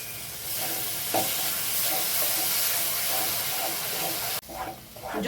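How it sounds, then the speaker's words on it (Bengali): Spice paste with red chilli powder and yogurt sizzles and hisses loudly in a pan while being stirred, a steady frying roar with a brief dip near the end. "যতক্ষণ মশলা থেকে তেল ছাড়ছে ততক্ষণ মশলাটা কষাতে হবে।"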